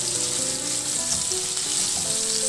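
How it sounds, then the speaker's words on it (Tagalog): Onion sautéing in a kawali, the same pan used for pork liempo, giving a steady, close hiss of sizzling oil without any voices. "Sa same na kawali, igisa ko na rin yung sibuyas."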